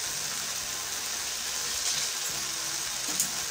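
Okra (bhindi) sautéing in a pan for a masala fry makes a continuous, even sizzle that stays close and moderately loud, with a faint low hum beneath and nobody speaking.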